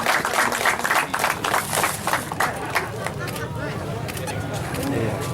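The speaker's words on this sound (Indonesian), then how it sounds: "Nah, tepuk tangan." A crowd claps at a cheap-goods market event visited by a regional official ahead of Ramadan, with dense, fast applause mixed with chatter that stays fairly loud and steady throughout.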